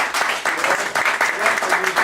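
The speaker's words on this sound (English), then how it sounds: "I think they should have a good round of applause." A crowd claps steadily in a dense, continuous round of applause with voices mixed in, lasting a couple of seconds.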